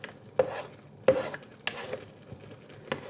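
A spoon stirs a cooking dish after red pepper goes in, giving a few separate scraping strokes against the pot over a quiet background.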